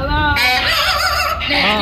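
A talking parrot singing a greeting at a squawk talk bird show at the Arizona State Fair, a loud, close, warbling run of squawky, voice-like sung notes that lasts about two seconds.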